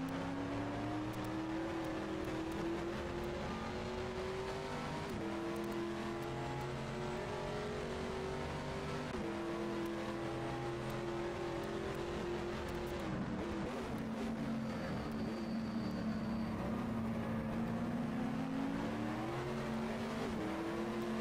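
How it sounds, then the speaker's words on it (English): A McLaren race car engine in the Automobilista racing game, a continuous high revving drone that climbs and drops with gear shifts, heard alone and fairly quiet. "I hear a McLaren in my car"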